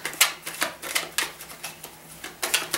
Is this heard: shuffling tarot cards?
yes